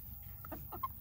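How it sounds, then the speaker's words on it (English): A few short, soft clucks from a nearby backyard chicken in an outdoor chicken run, quiet and brief, over a low background rumble. "There's our rooster."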